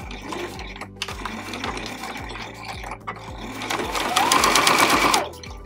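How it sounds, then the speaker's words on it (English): Sewing machine stitching two strips of fabric together for a tiny dollhouse quilt, running close and steady with a rapid mechanical needle rhythm, brief pauses for back stitching, and a faster burst near the end. "I'm gonna go ahead and stitch these 2 strips of fabric together with a 1/4 inch seam allowance"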